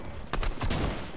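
Two quick bursts of gunfire in Fortnite, short sharp cracks in close succession with no talk over them.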